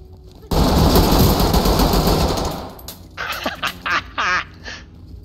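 A loud sustained burst of automatic gunfire from a favored gun in the tactical shooter Ready or Not, lasting about two seconds and then fading, followed by someone talking excitedly.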